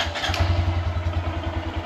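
Honda Grom motorcycle engine with factory exhaust running close by, a steady low throbbing idle with rapid even pulses and a faint mechanical clatter, no voices.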